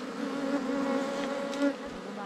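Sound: wild honey bees buzzing at a hive

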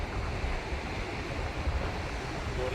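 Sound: strong wind blowing

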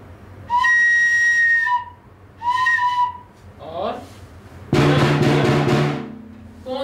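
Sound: flute playing

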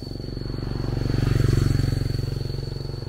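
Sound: motorbike passing

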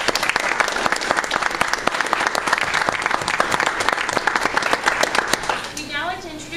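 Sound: audience applause

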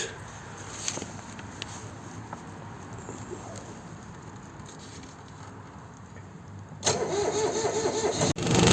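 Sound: small tractor diesel engine starting

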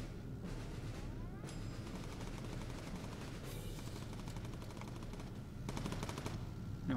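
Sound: gunfire at training targets in video game Bomber Crew

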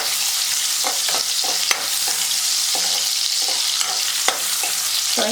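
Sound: onions sautéing in a pan

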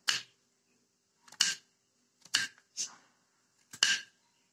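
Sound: chopping banana stalk with a knife on a cutting board

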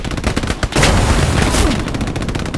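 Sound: gunfire in the video game Hell Let Loose

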